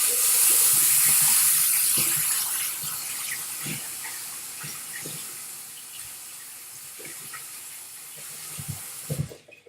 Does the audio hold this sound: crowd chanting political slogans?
no